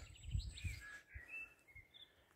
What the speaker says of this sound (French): on marche au son des oiseaux